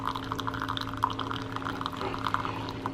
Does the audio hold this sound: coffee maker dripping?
yes